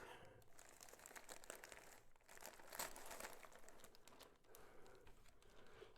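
Plastic parcel bag from an AliExpress shipment holding a Blackview R1 smart band, crinkling and rustling steadily through unpacking, close up, with a few sharper crackles and occasional quiet speech.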